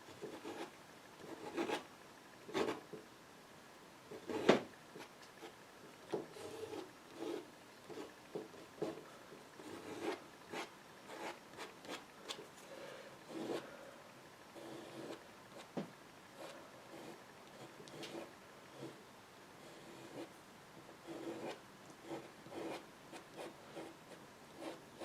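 A tool scrapes across the paper surface of a watercolour wetland painting in repeated short, dry, scratchy strokes, faint and close, with irregular pauses between them.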